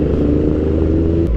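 A Honda CB400 Super Four motorcycle idles and putters in heavy traffic, a loud, steady low engine drone close by, alone without voices.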